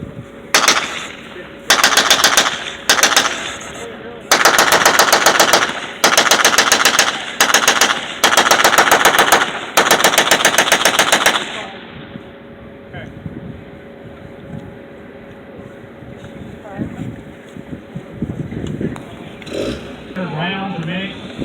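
A 30 caliber machine gun fires at a veterans car show outdoors, loud sustained bursts of rapid automatic fire in several volleys, then quieter crowd and outdoor noise, with people talking.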